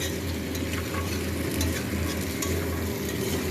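Chicken fries in a pan with chilli powder, spices and chopped tomato for chicken kosha, making a dense, continuous sizzle that holds loud and even throughout, with no voices.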